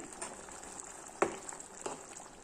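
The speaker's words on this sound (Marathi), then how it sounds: "आता खळखळून उकळी आहे" A Konkani-style curry of field beans (val birde) sweetened with jaggery simmers at a rolling boil, giving a soft, steady bubbling with two or three sharper pops, faint and close, with no voices.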